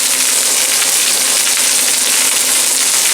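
Steady, even sizzle and hiss of mushrooms cooking down in a pan with onions and carrots for a vegan dish, continuous and fairly loud with no talk.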